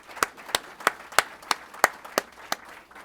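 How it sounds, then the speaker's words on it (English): Applause for sponsors at a business speaker event comes across as a sparse, steady run of about nine sharp, evenly spaced claps, each one crisp and separate against a quiet, faintly murmuring room. "so let's give them a round of applause, please."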